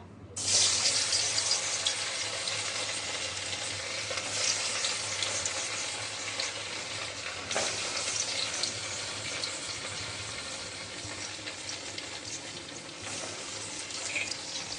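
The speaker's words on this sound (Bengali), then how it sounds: "এগুলো ভাজা হচ্ছে, আস্তে আস্তে মুইঠাগুলো ভাজা হবে।" Katla fish muitha dumplings fry in hot oil in a wok, giving a steady, close, dense sizzle and crackle that runs unbroken throughout with no voices.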